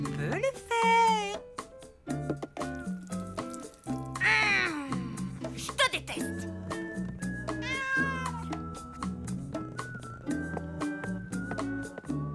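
A cartoon cat meows repeatedly in a French children's animated series, drawn-out wailing cries mixed with voices and a musical score.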